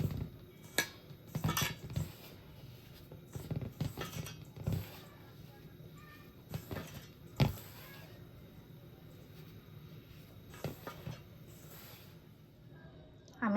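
A spoon clinks and scrapes against a bowl while mixing semolina with a pinch of salt, in quick irregular bursts of stirring with small clatters and pauses between them, close and fairly quiet.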